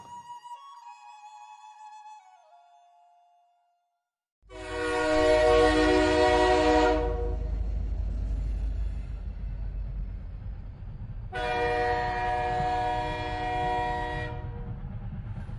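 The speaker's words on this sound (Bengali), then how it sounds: "ট্রেনটা ছুটে চলেছে খুব দ্রুত গতিতে" A passenger train races along at speed toward Howrah with a loud, steady rumble of wheels, cut by two long, blaring horn blasts. A soft tonal passage precedes it, then the train sound swells up abruptly and stays close.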